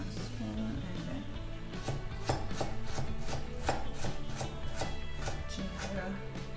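A knife chops herbs and ginger on a board in a quick, even run of about a dozen sharp, close cuts, with faint background sound.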